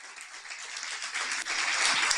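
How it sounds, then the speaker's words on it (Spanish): Church congregation applauding for Jesus: a steady, moderately loud wash of many hands clapping for about two seconds, with no voices over it. "Un aplauso para Jesús."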